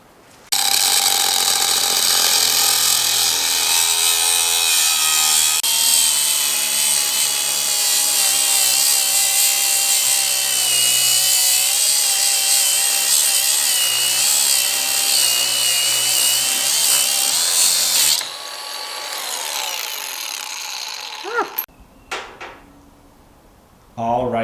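Steady, loud grinding and cutting on metal steering knuckles during a Volvo 960 hydraulic handbrake build, running continuously for most of the stretch, then stopping with a few brief clanks and handling sounds near the end.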